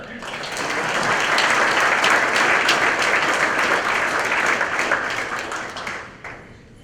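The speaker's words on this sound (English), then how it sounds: "Another round of applause" A crowd at a hall of fame banquet gives a sustained round of applause, dense clapping that swells within the first second, holds for several seconds, then fades away near the end.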